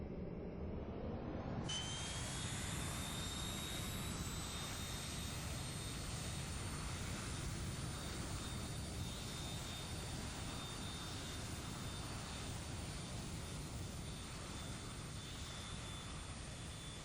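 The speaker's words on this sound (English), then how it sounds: "Flight 501 taxis into runway 34." Steady, loud roar of a Boeing 737-200 jet engine close by, with a high whine rising early on and holding throughout as the airliner taxis toward the runway.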